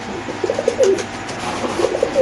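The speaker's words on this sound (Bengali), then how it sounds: "এখানে আছে দুইটা মাদি কবুতর আমরা দেখাচ্ছি" Pigeons cooing close by in soft, repeated throaty bursts, a couple of short coo phrases against quiet background.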